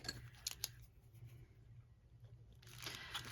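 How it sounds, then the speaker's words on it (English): Scissors snip the edge of fabric for a junk journal cover, with a few crisp close cuts near the start and again near the end over quiet handling noise. "I'm going to trim the tiniest bit off of this edge"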